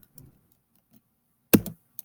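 A computer keyboard is used to type a teacher's name into Google Docs. A few sparse, quiet keystrokes are followed by one sharp, louder key click and a final light tap, with silence between them.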